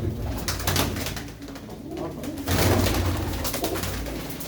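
Rocket pigeons coo steadily and close at hand, a dense layered murmur of several birds that swells again in the second half, with no talk over it.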